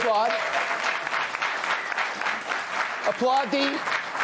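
Studio audience applause on a television talk show fills the whole stretch as steady, dense clapping, while people talk over it at the start and end.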